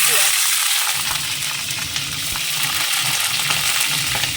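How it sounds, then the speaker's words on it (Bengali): Chopped capsicum, onion, tomato, ginger and garlic frying in hot oil in a pan, a loud, continuous close-up sizzle with crackling spatter and occasional stirring scrapes. "ক্যাপসিকাম পেঁয়াজ টমেটো আদা কুচনো রসুন কুচনো সব কেটে নিয়েছি এবার তেলের মধ্যে আগেই দিয়ে দেবো"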